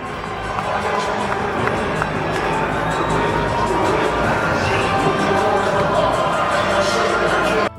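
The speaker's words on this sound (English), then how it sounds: "The crowd roared in approval as Garcia showcased his impressive performance" A boxing crowd at a Times Square main event roars steadily in approval, a dense wall of cheering and shouting that holds at full strength for several seconds before cutting off.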